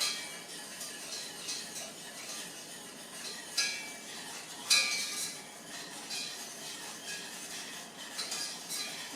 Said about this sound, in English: We're going to whisk that together. Have to whisk it pretty good because we do not want any of that cornstarch lumps in our syrup